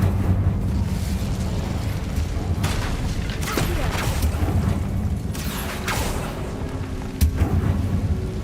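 Fiery Incendio spell casts from the Hogwarts Legacy video game: several short whooshing, crackling bursts spaced a second or two apart over a steady low rumble, fairly loud and close.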